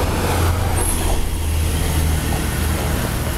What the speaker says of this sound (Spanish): Esta es la avenida, la carrera 38 o la avenida 38, tiene mucho tráfico.